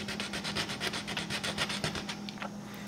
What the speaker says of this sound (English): I'm gonna do a little bit more sanding just to get all these areas well blended